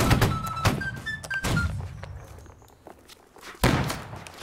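Musket line volley in the Holdfast video game, several sharp gunshot thuds fired in quick succession with a short gap before another loud report, mid-distance, with no talk over them.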